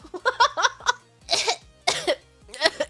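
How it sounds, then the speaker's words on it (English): Several bursts of coughing and hacking, loud and close, in quick irregular clusters with short gaps between them. "Coughing, hacking."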